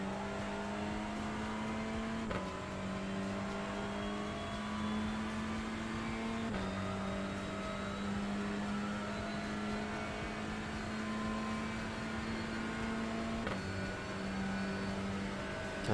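A touring car engine in iRacing at Daytona Road holds a steady high drone with several quick gear-change dips and re-rises, accelerating smoothly, constant and moderately loud from the in-car perspective.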